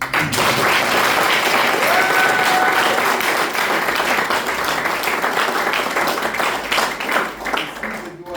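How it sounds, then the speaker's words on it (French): A crowd at a foundation key-handover ceremony breaks into loud, sustained applause that holds dense and steady for several seconds before thinning at the end, with a voice faintly audible beneath. "Ça mérite des applaudissements."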